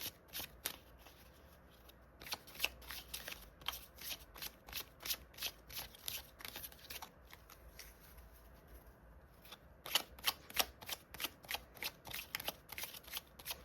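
Small oracle cards being shuffled by hand in quick bursts of crisp riffling slaps, with brief pauses between runs, close and fairly quiet with no talk.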